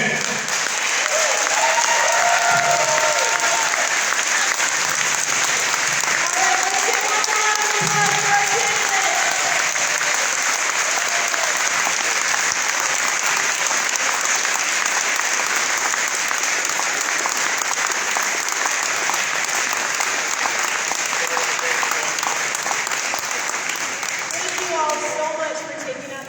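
A crowd at a Minnesota Republican gubernatorial debate applauds the candidates in a long, steady wash of clapping. Voices and cheers are heard over it early on and again at the end.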